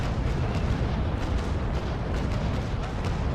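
Naval cannon broadside fire in the age-of-sail game Naval Action, a dense continuous roar of low booming blasts that fills the whole stretch at steady loudness, with no talk over it.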